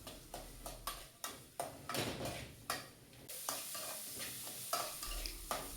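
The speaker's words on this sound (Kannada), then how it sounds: "ಅಲ್ಲಿ ತನಕ ಅದನ್ನ ಫ್ರೈ ಮಾಡ್ಕೊಳ್ತಾ ಇರಿ." Onion frying in a pan for a capsicum rice dish, with a soft sizzle under regular stirring scrapes and taps of a spoon against the pan, quiet and close, with no one talking.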